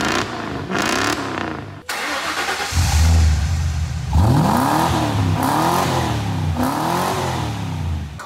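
A V8 engine revs through a quieter aftermarket exhaust, with several loud rising and falling throttle blips after a brief pause and a steady rumbling idle underneath, heard close up.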